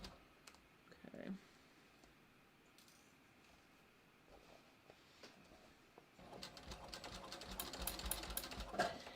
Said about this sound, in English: we're gonna sew just inside or just on the outside edge of the fold